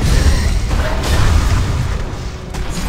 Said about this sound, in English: The Legion have destroyed a Hellborn tower.